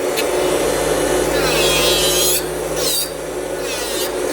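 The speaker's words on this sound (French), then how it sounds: "Moi je dépose la couleur à la ponceuse" An electric nail sander files gel nail polish off a fingernail, making a loud, steady, high whirring rasp. Its pitch shifts briefly as the bit presses and lifts against the nail.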